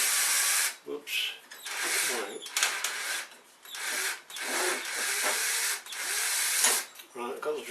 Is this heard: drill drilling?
yes